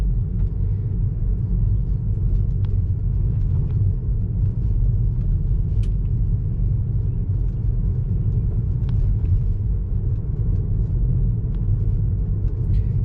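A Tesla Model 3 RWD on Full Self-Driving rolls along rural Illinois roads, heard from inside as a steady low road rumble and tire hum with faint ticks and no engine note.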